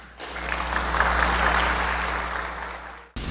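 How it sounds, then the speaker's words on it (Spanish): Applause fills a legislative chamber after a bill passes with 81 votes, a steady broadband patter of many hands that swells and then slowly fades before cutting off abruptly near the end. "Aplauso, por favor."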